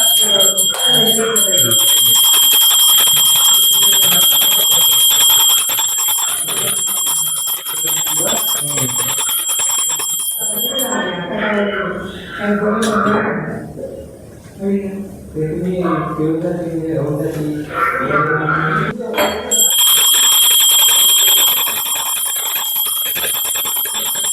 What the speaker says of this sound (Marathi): घंटी वाजवा जरा